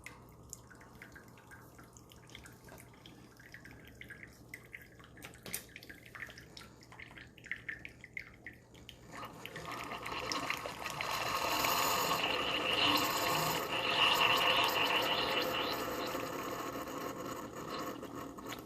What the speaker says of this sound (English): They do kind of splatter out when you're brewing an espresso shot into them